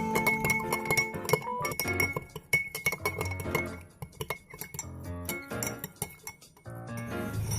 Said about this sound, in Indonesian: Masukkan garam ke dalam air putih. Kemudian aduk sampai garam tersebut larut.